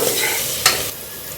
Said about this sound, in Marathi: त्याच्यात घालूया आता हिरवी मिरची, अद्रक लसूण चा पेस्ट परतून घेऊया